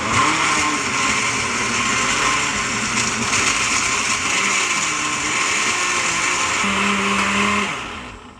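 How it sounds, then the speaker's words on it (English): A blender runs loudly and continuously on its highest liquefy setting while making a green smoothie, a whirring motor drone, its pitch shifting slightly before it winds down at the end. "That was blending all the way to the top."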